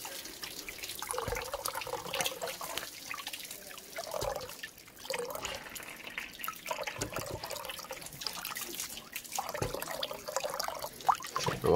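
Water runs and splashes from a tap in a steady, moderate stream, with small gurgles and drips throughout.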